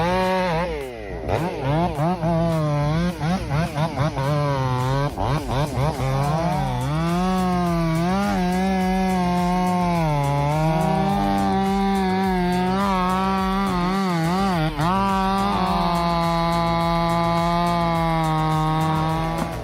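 Big chainsaw felling a giant cedar tree, its engine screaming loud and continuous close by, pitch rising and falling as it bites into the wood.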